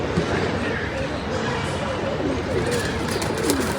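Pigeons at a pigeon-flying tournament coo and call in soft, scattered bursts against outdoor background noise, while someone talks over them.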